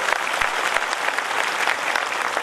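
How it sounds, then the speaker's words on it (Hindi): Audience clapping at a Brahma Kumaris diabetes health program in Rajkot, a steady, dense round of applause from a large crowd lasting throughout with no talk over it. "जोरदार माताओं के लिए ताली बजाओ, ताली बजाओ भाई।"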